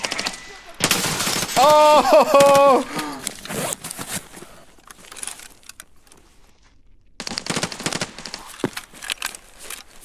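Rapid automatic gunfire from the video game Escape from Tarkov on the Ground Zero map, loud bursts of shots crackling near and far, with someone shouting over the shooting.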